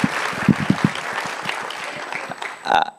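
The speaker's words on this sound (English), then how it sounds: "give Elizabeth another round of applause" Audience applause at a gala, a dense wash of clapping from a crowd that holds steady and then thins out, with a few louder individual claps early on and a brief voice near the end.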